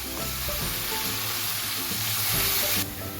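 Mutton kaleji browning in a pan gives a steady, close sizzle that holds loud and even throughout, with soft stirring and no voices.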